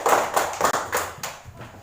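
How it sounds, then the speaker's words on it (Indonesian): A small class of students claps for a classmate in a school lesson, with a short burst of scattered hand claps in uneven rhythm that fades toward the end. "tepuk tangan dulu buat Aulia"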